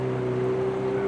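A motorboat engine drones on a jungle river in Panama, a steady close hum with a low tonal whine that holds unchanged throughout, with no speech.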